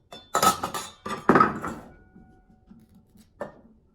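A knife chops unripe banana on a board, giving a few close, sharp thuds and clacks in two quick bursts and then a lone tap after a pause.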